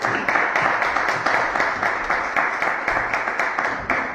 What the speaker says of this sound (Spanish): Más fuerte el aplauso a nuestra narradora